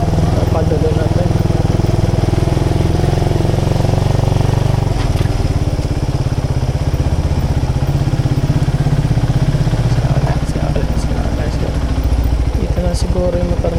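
A motorcycle rides along a soft, sandy road, its engine droning loud and close without letup, with voices talking over it at times.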